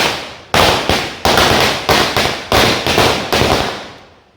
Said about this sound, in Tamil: சரவெடி தீபாவளி.